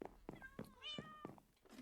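Cats meow in a hardcore-mode video game, a few short, high, rising and falling mews layered over a player's voice talking.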